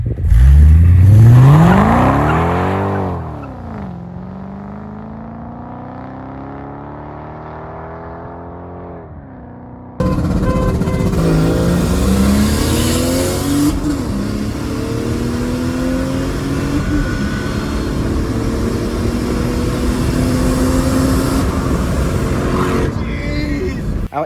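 A turbocharged car with upgraded 680cc injectors races a supercharged V8 Mercedes E55 AMG, its engine revving hard through rising gear pulls, first loud and close, then a second stretch of steady, sustained acceleration with rising and falling engine tones.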